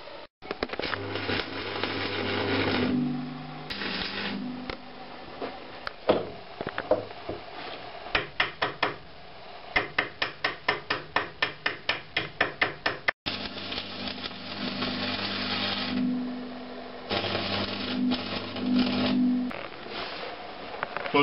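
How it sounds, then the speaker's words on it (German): Electric welding of a block onto a steel carrier plate while making a Porsche workshop tool: a steady crackling buzz with a run of rapid, evenly spaced ticking bursts and short pauses. "Nun schweißen wir den Klotz auf die Trägerplatte."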